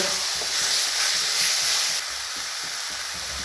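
Spice masala and chicken sizzle and fry in a pan while being stirred, with a steady close hiss and soft scraping strokes of the spoon throughout.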